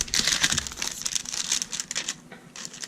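Packaging for a retro 1951 Tornado 1.15mm mechanical pencil crinkles and tears as it is opened by hand, close-up and continuous for a few seconds with no talking.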